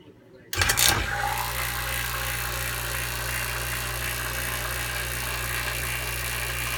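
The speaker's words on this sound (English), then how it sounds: "Okay, so we have our vacuum pump here hooked up. Now I'm going to start it." A laboratory vacuum pump starts after a brief quiet moment with a click and surge, then settles into a loud, steady motor hum and whir that runs continuously to the end.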